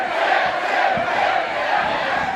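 A Brisbane wrestling crowd cheers and shouts loudly and continuously during a mixed tag grudge match, a roaring mass of voices.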